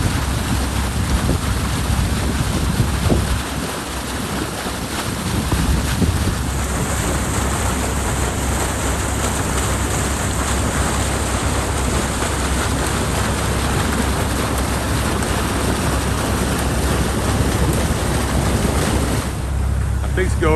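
Heavy water rushing out through a drain pipe set in a beaver dam, a steady broadband roar that holds loud and constant throughout, with wind buffeting the microphone.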